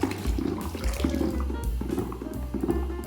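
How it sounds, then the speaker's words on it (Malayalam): Water pours and splashes into a bucket while making dishwashing liquid, a steady gush with gurgling, sloshing rhythms, close by and fairly loud. "ഇനി ഇതിൽ നമുക്ക് ബക്കറ്റിലേക്ക് ഒഴിച്ചു കൊടുക്കാം"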